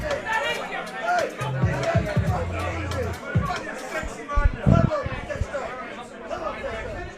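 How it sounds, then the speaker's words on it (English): A snooker crowd in London grows loud, a dense murmur of many voices chattering together in the hall, with some nearer voices and shifting swells of noise. "the London crowd is getting a bit loud again"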